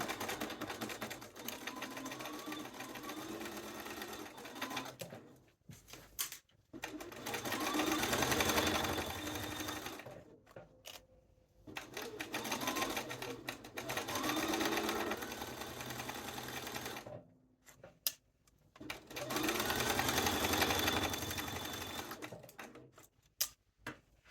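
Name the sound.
sewing machine sewing a regular seam on a duster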